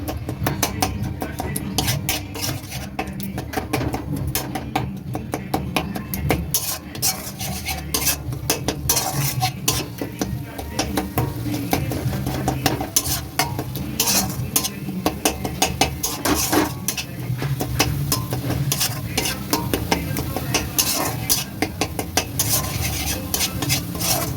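Softened tomatoes and spices are stirred and fried in a pan for chicken bharta, with a steady run of scraping and clinking from the utensil against the pan over a low sizzle, close and continuous throughout.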